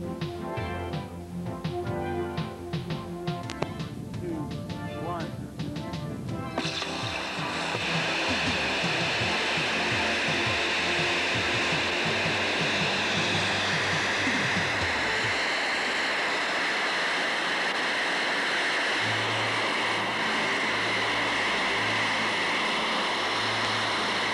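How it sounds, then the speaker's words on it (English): An XLR-1 rocket engine roars through a test firing, a buzzing start giving way to a loud, sustained broadband rush that holds steady for many seconds before easing into lower rumbling. "This is an independent rocket systems assisted test firing of Ken Mason's XLR-1"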